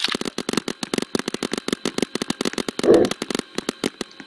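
Rapid bursts of paintball gun shots in the Roblox video game, a steady run of sharp popping shots firing in quick succession, fairly close and loud throughout, with one heavier burst partway through.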